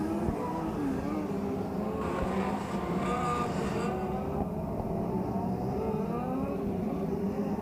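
Race car engines drone steadily as the field rolls toward the start on an oval track at a Labor Day Shootout, a continuous layered roar from a distance with shifting pitch.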